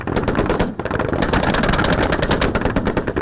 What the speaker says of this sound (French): L'ennemi est tenu à distance par des rafales des armes collectives